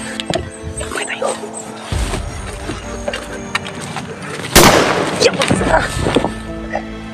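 A nearby gunshot rings out as a single loud, sharp crack in the middle of the clip, with people talking throughout before and after it.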